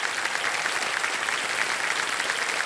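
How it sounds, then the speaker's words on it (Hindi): A studio audience on the Indian quiz show Kaun Banega Crorepati breaks into loud, sustained applause, a dense continuous clatter of clapping with no voices over it. "तालियां बज जाए इनके लिए एक बार जोरदार।"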